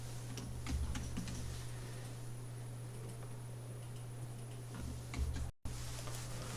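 Computer keyboard typing while drafting an injection mold design in 2D CAD, with a steady run of light key clicks and taps over a constant low electrical hum, close and fairly quiet, with no voices.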